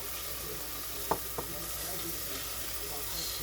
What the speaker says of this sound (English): So now we're just going to saute this all together and get it where it's cooked down some.